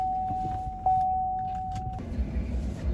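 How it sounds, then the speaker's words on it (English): Inside a moving truck on the road, a low, steady rumble of road and engine noise fills the cabin, and a thin electronic tone sounds briefly before the noise settles. "So let's talk while I'm driving on my errands here."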